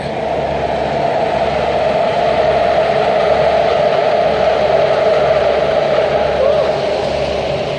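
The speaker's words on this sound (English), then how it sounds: "yo, look how this train is moving." A long train rolls past a truck yard at a freezer warehouse delivery dock, a steady, loud, continuous rumble and drone that stays even from start to finish, with no talk over it.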